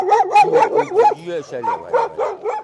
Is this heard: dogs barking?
yes